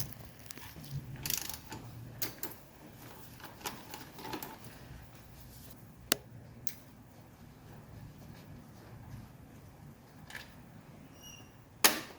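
A 13mm wrench ratchets and clicks at scattered intervals while undoing the nuts on the oil filter housing of a 1983 Mercedes 300TD. Occasional sharp metallic taps sit over a quiet, low background.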